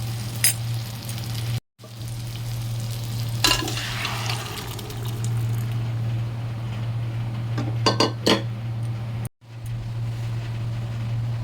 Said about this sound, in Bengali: এবার আমি এতে সেদ্ধ করা ডাল আর লাউটা ঢেলে দেবো।